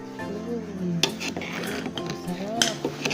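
A metal pot lid clanks and clinks on and off a cooking pot of sea urchin, with scattered sharp knocks and rattles at close range over faint background noise.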